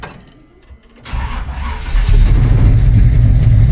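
A 1951 Chevrolet 3100 pickup with a 355 V8 cranks over after some faint rustling and a key jingle, then fires and settles into a loud, rumbling idle close by.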